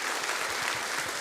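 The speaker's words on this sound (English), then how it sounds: "Everyone, give her a round of applause." Audience applause at a meditation gathering, a brief burst of dense, even clapping from a crowd, steady and fairly loud throughout.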